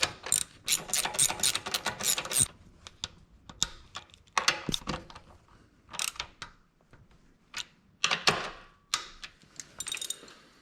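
A ratchet wrench clicks in rapid bursts while tightening bolts on an oil separator install on a 2008-2014 Subaru WRX, with short pauses and quieter single clicks between close, crisp runs.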